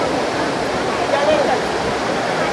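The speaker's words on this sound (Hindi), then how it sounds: "ये भी हमारे प्रसिद्ध स्वर्णरेखा नदी से निर्मित वाटरफॉल है।" Hundru Falls, a waterfall on the Subarnarekha river near Ranchi, pours as a steady, dense rushing roar of falling water that stays even and close throughout.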